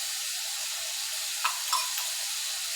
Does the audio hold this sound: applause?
no